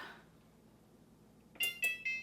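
Kitchen timer being set while baking a cheesecake in a switched-off oven: three short, sharp electronic beeps in quick succession near the end, after a brief faint tone at the start and quiet room background.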